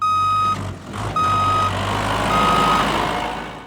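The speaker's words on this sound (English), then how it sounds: "we're backing up the fish stocking trucks." Loud, steady reversing beeps from a fish stocking truck backing up, repeating in long evenly spaced tones over a low idling truck engine.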